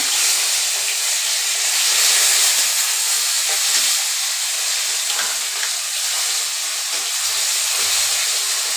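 Sidol jhol with fish boils in a pot on the stove, a loud steady hiss and bubbling sizzle that carries on without a break, up close.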